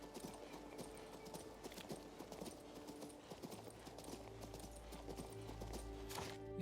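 Horse hooves clip-clop in a steady, rhythmic trot in the video game King's Bounty 2, with faint ambient background sound beneath.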